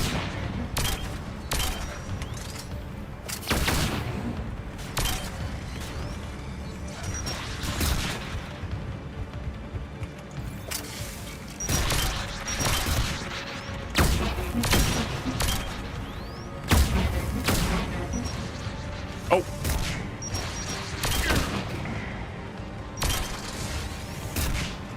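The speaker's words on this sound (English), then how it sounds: "All these rocket launches." Dense rapid gunfire and booming rocket launches in a Mass Effect 3 battle against Reapers, continuous bursts of shots and explosions throughout, loud and close with no voices.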